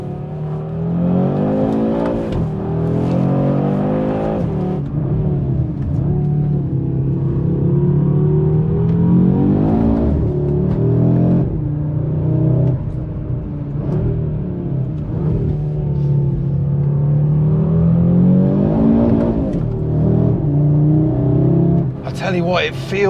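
A 2022 Audi RS3 Sportback in RS performance mode accelerates hard on mountain roads, its five-cylinder engine note rising and falling through gear changes, loud and close from inside the cabin under a driver's talk.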